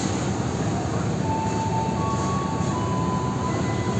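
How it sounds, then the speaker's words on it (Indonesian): Jayabaya train pulling in at platform 1 of Pasar Senen station, a steady loud rumble of rolling wagons with faint squealing tones, heard close at trackside. "ini jalur 1 masuk rangkaian kereta api Jayabaya dari Pasar Senen tujuan Surabaya Pasar Turi sampai dengan Malang lewat utara"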